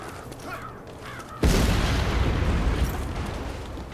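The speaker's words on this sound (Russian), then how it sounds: "Так, взрываем еще на всякий эту вышку, чтобы в случае чего у нас проблем не было" A tower blown up in The Saboteur video game: a sudden loud, deep blast after a quiet lead-in with some faint bird calls, followed by a long rumbling roar that fades slowly.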